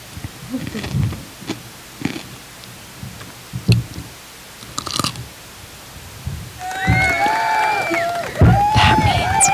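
A crunchy pickle is bitten and chewed, giving a series of crisp, close crunches, followed by voices talking.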